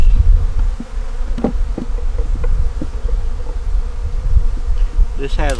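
Honey bees buzz around a nuc hive box with entrances, a dense continuous drone close to the mic with scattered sharper passes of individual bees and a brief higher whine near the end.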